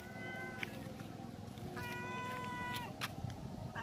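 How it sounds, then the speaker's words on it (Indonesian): A pregnant cat meows repeatedly, several drawn-out, fairly loud calls in sequence over steady background noise. "Kucing kok miau-miau terus mulai tadi?"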